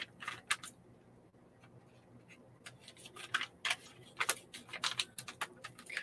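Scissors snip at a plastic snack bag of beef jerky, a run of sharp, close clicks and crisp cuts in uneven bursts, sparse at first and then quick and clustered, with no talking.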